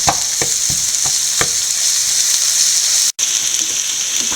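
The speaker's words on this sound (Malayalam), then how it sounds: "ബാക്കി സവോളയും കൂടെ മൊത്തത്തിൽ നല്ലപോലെ വഴന്ന് നല്ലപോലെ ബ്രൗൺ കളർ ആകണ്ട" Onion, ginger and garlic sauté in a pan for an egg roast, with a loud, steady sizzle. Several sharp spoon-stirring clinks and scrapes come near the start, and no voices are heard.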